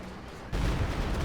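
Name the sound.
120mm mortar fire in video game Company of Heroes 2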